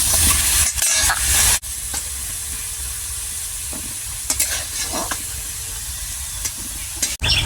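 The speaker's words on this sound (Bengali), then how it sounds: "দেখো আমার আলুটা লাল লাল ভাজা হয়ে গেছে," Potatoes fry in hot oil with turmeric and salt for a Bengali jackfruit and prawn curry, a steady broadband sizzle running throughout with occasional louder spatters and stirring scrapes, close and without talk.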